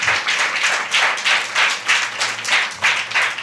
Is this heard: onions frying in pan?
no